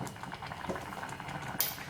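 A soft, continuous bubbling comes from a mango pulissery curry reducing in an open pot, with scattered small pops and a brief brighter hiss near the end.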